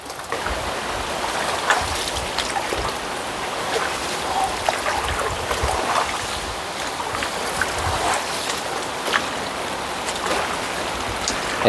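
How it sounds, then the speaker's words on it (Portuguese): Steady rain falls across a mangrove on a cold, wet day, a dense, even hiss with scattered louder drips and splashes, close and continuous with no talking. "e hoje tem bastante chuva"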